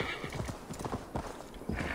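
A summoned horse gallops in Assassin's Creed Valhalla, its rapid clip-clopping hoofbeats loud and close against a noisy outdoor game soundscape, with a whinny woven in.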